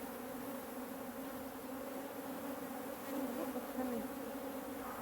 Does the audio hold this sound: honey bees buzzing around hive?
yes